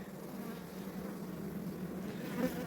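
Bees buzz steadily around an opened beehive while a frame is lifted out during hive expansion, a close, continuous insect drone with no voices.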